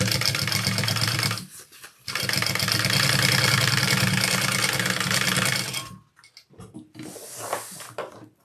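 A sewing machine stitches the sides of a Lyiah handbag, running in a loud, steady, rapid mechanical whir for a few seconds, pausing briefly, then whirring again before stopping, with faint handling noises afterward.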